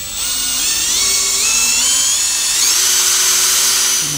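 A high-pitched rotary polisher whines steadily while buffing a Toyota Sequoia headlight lens, its pitch shifting slightly up and down as pressure changes, loud and close with no talking.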